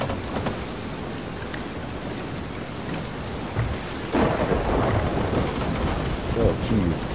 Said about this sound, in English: Alright, a big storm.